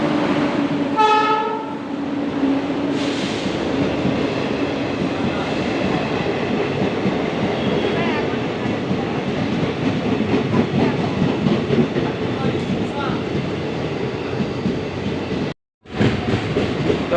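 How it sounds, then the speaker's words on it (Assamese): A train rolls into a station platform, a loud steady rumble of wheels and carriages running throughout with a brief horn-like tone near the start and a short cut to silence near the end. "ট্ৰেইনটো আহিছে।"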